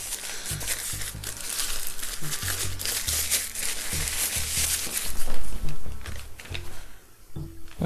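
Packaging crinkles and rustles up close while Baseus D02 Pro wireless over-ear headphones are unpacked, with irregular crackles and soft thumps of the box and wrapping being handled for several seconds.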